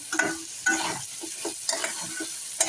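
Green chillies sauté in a pan for sabudana khichdi, a soft frying sizzle cut by several distinct scraping strokes of a spoon against the pan, close and clear with no talking.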